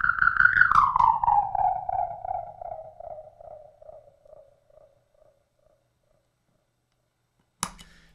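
An MXR Carbon Copy analog delay pedal self-oscillating with nothing played, a warbling, downward-gliding tone with a gritty low rumble that slowly decays into silence before a sharp click at the end.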